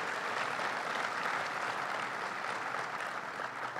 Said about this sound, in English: Let's give Jane a round of applause